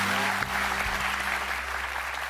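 Studio audience at an Indonesian TV talk show applauding steadily, a dense wash of clapping throughout with low background hum and no clear talk over it.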